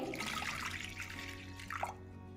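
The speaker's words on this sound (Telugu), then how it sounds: "ఒక గ్లాస్ వాటర్ వేసుకోవాలండి" A glass of water poured into a pressure cooker pot of meat with salt and turmeric, a steady close splashing and trickling stream that tapers off, with no talking over it.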